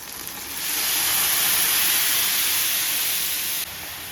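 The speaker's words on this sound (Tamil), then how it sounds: "இப்போ குழம்பு நல்லா கொதிச்சுக்கிட்டு இருக்கு" A pot of tamarind kuzhambu curry boils with a steady, bright steamy hiss that swells in and holds evenly, then drops off abruptly near the end, with no voices.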